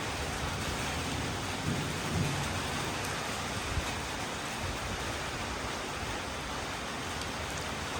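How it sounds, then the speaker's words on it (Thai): Heavy rain pours steadily and loudly, with a low rumble of thunder rolling briefly underneath the constant downpour. "บ้านนี้พอฝนตกมาพี่น้อง"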